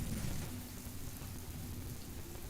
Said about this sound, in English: That's quite heavy rain out there as well.